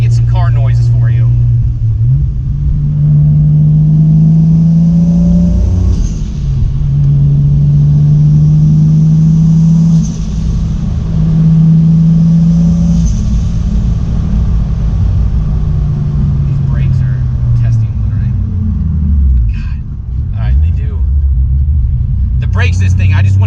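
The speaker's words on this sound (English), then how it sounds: "Let's try to get some car noises for you." A widebody single turbo Toyota Supra engine rumbles loudly up close, its deep tone rising and falling in several long revs and sweeps, with brief pauses and some faint voices in the background.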